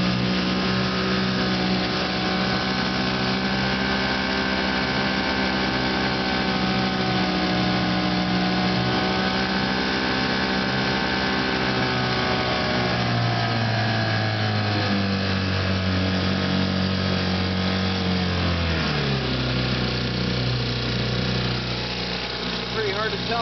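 A 1961 Johnson JW-17 3 hp outboard motor runs steadily nearby, its engine drone holding even before the pitch drops and settles toward idle in the second half.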